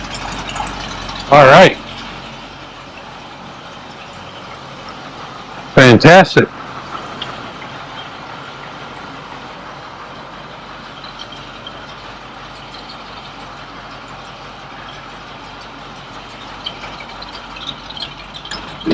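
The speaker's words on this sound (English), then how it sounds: "The rumble of the big block. The dual exhaust." A 1971 GMC C5500 medium-duty truck's big block engine idles with dual exhaust, a steady low rumble running continuously beneath brief bursts of nearby talk.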